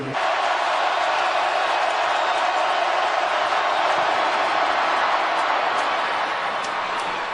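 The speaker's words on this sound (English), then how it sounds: "The crowd will tell you whether he makes it or not" A huge stadium crowd at a Seattle Seahawks NFL game roars steadily and loudly throughout, a dense sustained wall of cheering with no individual voices standing out.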